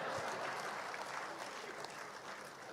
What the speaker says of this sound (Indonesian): Berikan tepuk tangan buat saya.